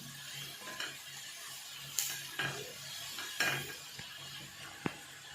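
Soft sizzling of colocasia (arbi) frying in a pan, with quiet stirring and occasional clicks of a spoon against the pan, faint and close, no talk.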